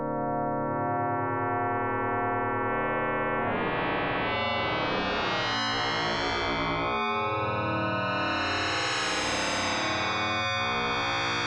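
Electronic FM synth tones from a Shakmat Ballista Blast, two carriers each with its own modulator, buzzing and distorted with high-pitch and amplitude modulation giving a swirling, warbling sound, sustained for several seconds and shifting in texture, with no talking.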